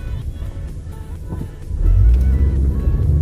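An unregistered Jeep cruises at about 50 mph, its engine and road rumble rising into a louder, heavier drone partway through, close and continuous.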